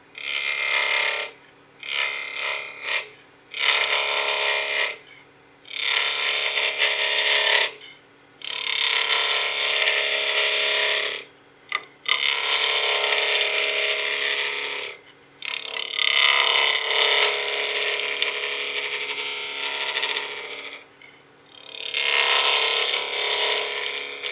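A wood lathe spinning at about 2,000 RPM as a tool slowly knocks the corners off a hybrid cast-resin pizza cutter blank, giving loud sustained rattling bursts broken by short pauses over roughly twenty seconds.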